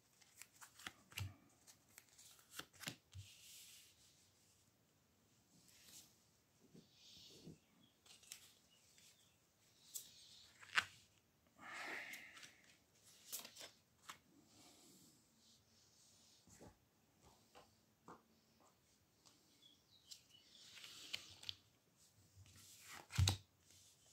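Tarot cards are shuffled quietly and close by in soft, irregular riffles and slides, with light taps and handling noises scattered over the quiet background and no talking.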